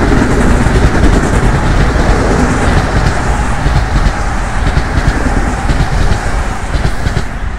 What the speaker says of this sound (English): That's train number 2.